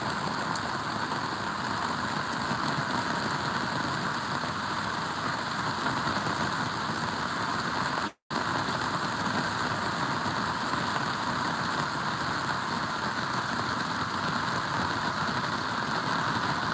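Sudden heavy rain pours down over a flooding worksite in Uzhavoor, a loud, dense, unbroken hiss that holds steady throughout, with only a momentary dropout midway.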